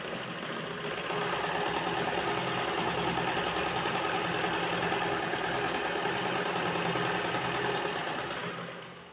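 A sewing machine stitches piping onto ladies' trousers, running continuously for about eight seconds with a steady, close mechanical whir and rapid needle rattle.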